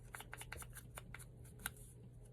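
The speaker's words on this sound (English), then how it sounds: "Put a little rip in it. Rip and tear." Paper being ripped and torn by hand to give it an aged, vintage look for ephemera crafting, heard as a quiet series of short, crisp tearing bursts close by.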